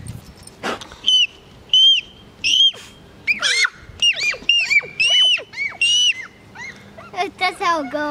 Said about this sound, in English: Tommy, can you demonstrate your dog whistle?